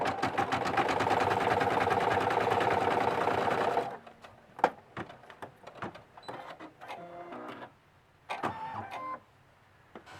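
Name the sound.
embroidery sewing machine sewing a bunny's leg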